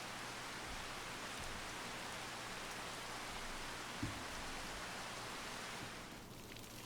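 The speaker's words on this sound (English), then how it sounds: "And see, the rain didn't stop." Steady, dense hiss of rain falling in a Farming Simulator 25 game world, a continuous broadband wash with a low engine-like hum underneath and one brief thump partway through.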